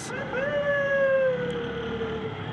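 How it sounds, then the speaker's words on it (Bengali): An ambulance siren wails in a long steady tone from ahead in a Bengali traffic jam on a one-way road, heard from a motorbike amid engine and traffic noise, moderately loud, with no one speaking. "সামনে একটা অ্যাম্বুলেন্স"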